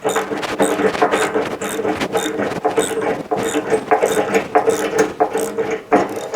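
Bolts being tightened on a Johnny Plow Jr snow plow attachment during assembly, a loud, steady run of rapid ratcheting clicks that continues throughout without talk.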